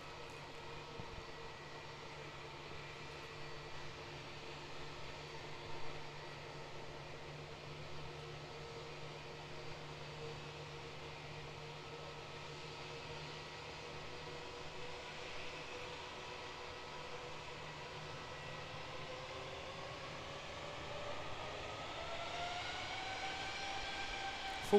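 A Jetstar Airbus A320 at Auckland Airport spools its engines up to full power, a distant steady hum with rising whining tones that grow louder toward the end.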